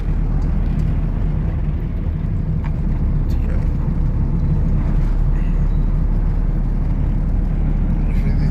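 Inside a moving car, a steady low road rumble and engine hum fill the cabin without letup, with occasional faint knocks over the drone.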